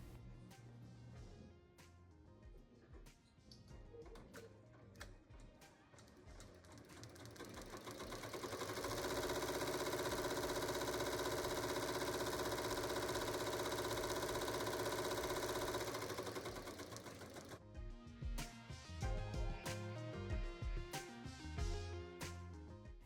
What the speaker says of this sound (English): I'm placing the hoop back on the machine, and now I'm going to press start so section 2 and section 3 can be stitched down.